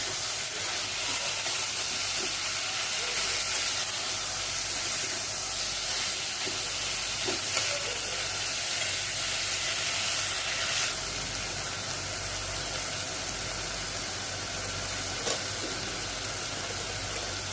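Onion, garlic and tomato hiss and sizzle steadily as they fry in a pan, a continuous close sound with faint occasional crackles and no talking.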